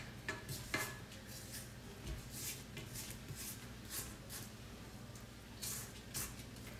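Spatula scraping the sides of a mixing bowl of creamed cookie dough, a series of soft, faint scrapes and light clinks at an irregular pace, heard alone without talk.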